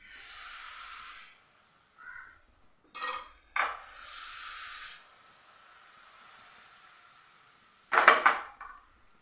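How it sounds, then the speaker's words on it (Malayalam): An appam pan gets a ladle of palappam batter and is swirled, giving a few short metallic clinks and scrapes over a soft hiss, with quiet gaps between and a louder clatter near the end; no talking. "ഇനി നമുക്കിതിലേക്ക് ഒരു തവി മാവ് ഒഴിച്ചിട്ട് ജസ്റ്റ് ഒന്ന് ചുറ്റിച്ചെടുക്കാം"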